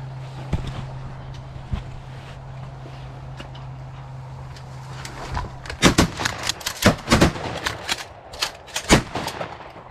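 Shotgun blasts at ducks from a hunting blind in Idaho: a quiet stretch with a low hum and a couple of isolated pops, then a rapid flurry of loud, sharp shots close by, spaced unevenly.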